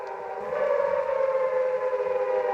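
A wailing siren in the 1960 film The Time Machine blares steadily with a sustained, wavering tone, loud and continuous from start to finish.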